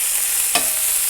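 Seared chicken hash sizzles in a cast iron skillet with a steady, close hiss, broken once by a brief scrape as the food is stirred.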